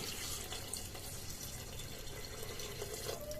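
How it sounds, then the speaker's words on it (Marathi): Water is poured into a pot of browned chicken for home-style chicken biryani, a steady close rushing pour lasting the whole moment with no talk. "आता आपण त्याच्यात टाकूया पाणी"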